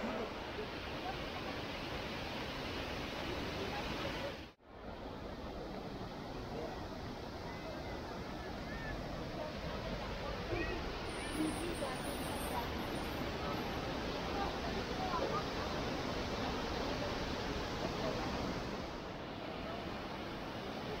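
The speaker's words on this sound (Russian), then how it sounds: "Вот водопад." Khanag waterfall in the Tabasaran district of Dagestan, a steady broadband rushing roar of falling water that fills the whole stretch, close and constant, with a brief dip early on.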